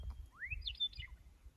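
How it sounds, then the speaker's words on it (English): A single faint bird chirps outdoors, giving one rising, warbling call over a low rumble of background noise. "You can hear the birds."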